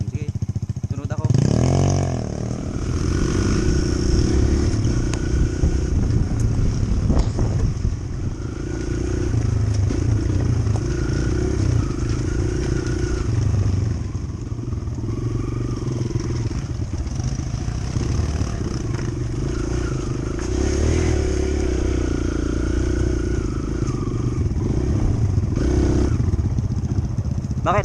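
Kawasaki KLX140RF dirt bike with a fresh bore-up, its engine running and revving loudly up close for the whole stretch, with people talking over it.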